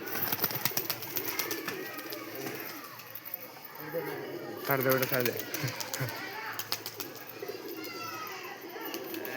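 Pigeons at a pigeon-trading loft coo softly in the background while people talk and call out nearby, with children's voices mixed into the chatter.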